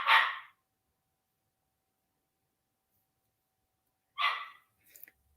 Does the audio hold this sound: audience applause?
no